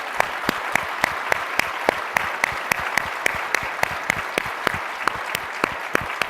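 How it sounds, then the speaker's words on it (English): An audience at a town hall workshop applauds the speakers, a steady, fairly close burst of many hands clapping that carries on evenly for several seconds. "I'd love to give them a big round of applause."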